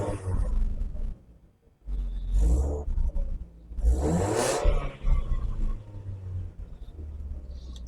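A 1997 Mercedes C-Class that sat unused for years idles high at about 1400 RPM, giving a steady low engine hum broken by a few louder swells and rustling noises nearby.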